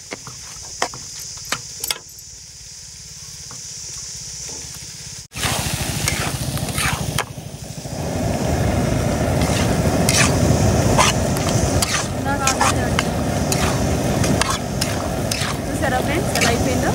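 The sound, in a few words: chicken frying and being stirred in a pan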